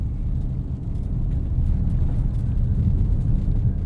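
Steady low rumble of a 2022 Hyundai Santa Fe Hybrid Limited driving through snow at night, continuous road and cabin noise with a faint rushing hiss, no talking.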